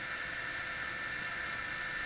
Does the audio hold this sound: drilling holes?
yes